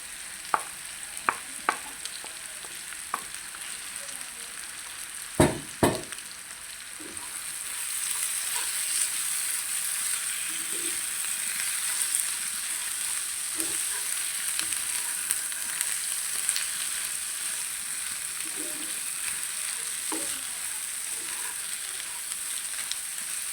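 Fish pieces for a homestyle fish chutney drop into a hot pan after a few knocks and clatters, then settle into a steady, bright sizzle of frying that continues evenly to the end.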